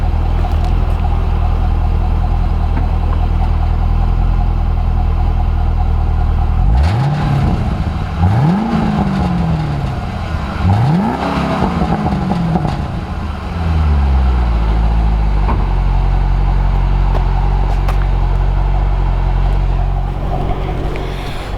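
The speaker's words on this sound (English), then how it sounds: "I'll rev the engine a little bit just so you can hear how wonderful it sounds." Deep V8 idle from a 2010 Chevrolet Camaro 2SS, then three sharp revs that climb and fall back, followed by a settling rumble; loud and close.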